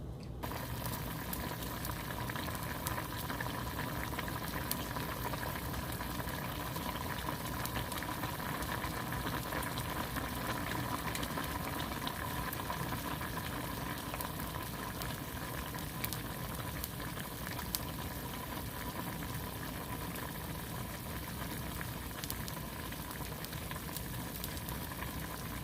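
Tuna simmers in a pot for paksiw na isda, a steady, faint, continuous bubbling and hiss that holds unchanged throughout with no voices.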